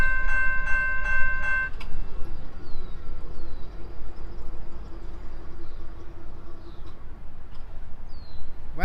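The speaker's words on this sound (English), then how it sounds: "2 trains meeting at the same time." GO trains passing at Chartwell Road in Oakville, two trains meeting at once: a brief chord horn at the start, then a steady rumble of rolling cars, with faint squeals throughout.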